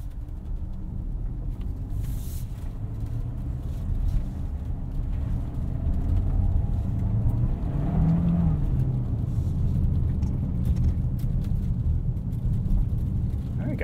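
A 2022 Hyundai Santa Fe Hybrid Limited driving through snow at night, heard from inside as a steady low road and engine rumble with a slight swell midway, no one talking.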